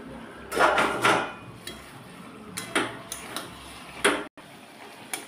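A metal lid comes off a cooking pot of Bengali shukto with fish head, giving a few sharp clanks and rattles, near and fairly loud, spaced out over several seconds.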